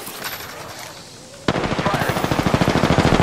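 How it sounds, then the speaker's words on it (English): Automatic gunfire in the Apex Legends battle royale game, a loud, rapid, evenly spaced burst that starts abruptly after a moment of quieter game ambience and keeps going to the end. "Getting shot at."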